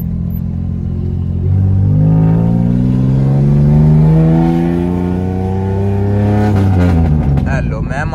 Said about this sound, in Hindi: अब मैं आपको चेक कराता हूँ इसका हर गियर का पटाखा।